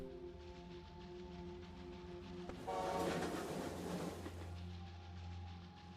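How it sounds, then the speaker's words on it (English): A locomotive rumbles along in the factory-building game Kubifaktorium, a low steady mechanical drone with a brief louder swell of rushing noise in the middle, no voices. "Build a train using the factory."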